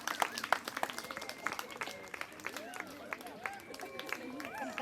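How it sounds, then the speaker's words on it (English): Scattered clapping for pupils at a school closing ceremony, uneven and fairly faint, mixed with children's voices, chatter and movement around the room. "Clap for them."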